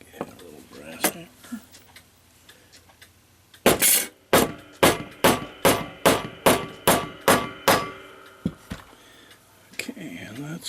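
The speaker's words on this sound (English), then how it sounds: "Get a little brass hammer." Sharp metallic taps from a small brass hammer striking a Waterbury bim bam strike clock movement, about a dozen evenly spaced close blows in a steady rhythm after a quieter stretch of handling noise.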